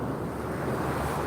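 Ocean waves wash onto a beach as someone walks along the shore, a continuous close rush of surf mixed with wind buffeting the microphone.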